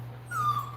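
A Rottweiler playing tug lets out a high, drawn-out whine that starts partway in and keeps going steadily, close and fairly loud over a low background hum.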